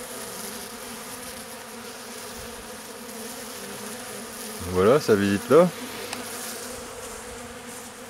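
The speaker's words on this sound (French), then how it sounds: "Il y a même des abeilles qui rentrent avec du pollen, elles sont folles là." Honeybees fly around a nucleus hive, making a steady drone with a couple of louder close buzzes as bees pass near, and someone speaks briefly over it.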